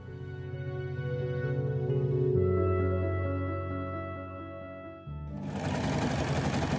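A sewing machine stitches leotard fabric in fast, steady runs, a close whirring buzz that pauses briefly before starting again at a quicker, harsher pace.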